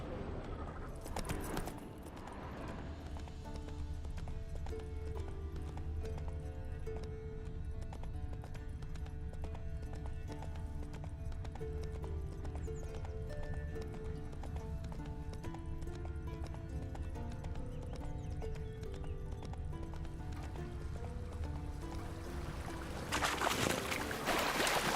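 A horse gallops in The Witcher video game with rhythmic hoof clip-clops running throughout over continuous game music and ambience.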